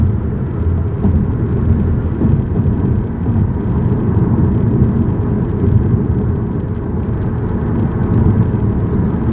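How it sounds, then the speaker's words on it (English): Steady interior road rumble from a 2012 Chevy Cruze Eco cruising along a road, with a continuous low engine and tire drone at even volume and no speech. "I'm driving a 2012 Chevy Cruze. It's an eco model."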